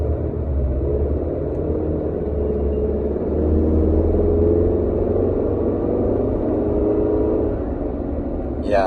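A 2023 Chevy Colorado truck with a tuned high-output engine accelerates hard, a loud, steady engine drone that swells midway and holds under the cabin, with no talk over it.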